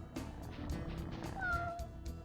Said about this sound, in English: It even meows like Archon.